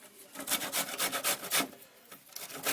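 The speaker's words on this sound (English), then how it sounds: "first we'll grate a little ginger, fresh ginger" Fresh ginger being grated for soup, a close, steady rasping rub in rapid back-and-forth strokes that go on without a break.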